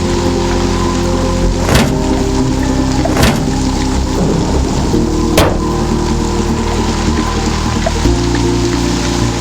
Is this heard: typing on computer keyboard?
no